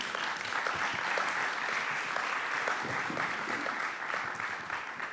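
An audience at a Portuguese cinema festival opening ceremony claps steadily for several seconds, a fairly even crackle of many hands filling the hall without anyone speaking.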